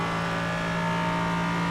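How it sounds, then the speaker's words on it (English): An LMP3 prototype race car in iRacing brakes hard and the tyres lock up, heard as a steady loud engine drone with a tonal whine. Nobody speaks. "Getting onto the brakes and locking up a little bit there"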